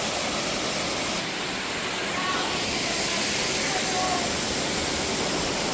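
Raven Cliff Falls near Helen, Georgia, pours as a loud, dense, steady roar of falling water that fills the whole stretch, close by and unbroken, with nothing else standing out above it.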